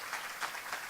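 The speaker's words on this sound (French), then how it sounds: "Une bonne main d'applaudissements encore." An audience applauds, a brief, faint, even wash of clapping with no voices over it.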